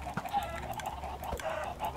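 Chickens on a Minecraft farm cluck in short, scattered bursts over a soft background, moderately close and without talk.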